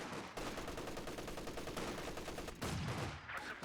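Sustained automatic gunfire pinning down a rifle squad in the WWII strategy game Company of Heroes 2, a rapid steady rattle of shots over dense battle noise, with a brief heavier burst near the end.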